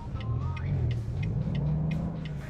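A heavy truck engine in American Truck Simulator drones low and steady under load, a continuous close rumble with slight pitch rises, while faint navigation beeps or tones sit above it and no one talks.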